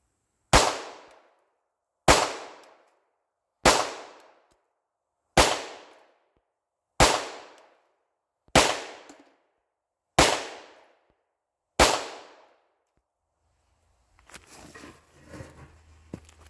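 Eight sharp, loud gunshots from a 20-year-old Hi-Point pistol ring out at a steady pace about every one and a half seconds, each followed by a short decaying echo, then brief rustling.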